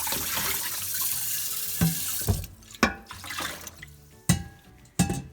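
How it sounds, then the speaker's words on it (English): A cleaned, formerly scorched pan rinsed under a kitchen tap: running water hisses and splashes at first, then the flow stops and is followed by several sharp knocks and clatters of the pan in the sink. "So let's rinse it to get a real good picture of what's happening here."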